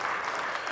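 A brief burst of audience clapping for a school superintendent at a spring band concert, a steady dense patter of many hands at moderate distance, fairly soft and continuous.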